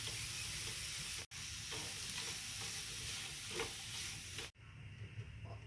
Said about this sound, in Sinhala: ඔන්න දැන් අපේ එළවලු මිශ්‍රණය ටෙම්පරාදු වුණා ඇති.